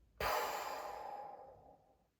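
A single long breath is exhaled through the mouth during kundalini yoga breathing practice. It begins abruptly, stays strong and breathy, then fades away gradually over about two seconds in a quiet room.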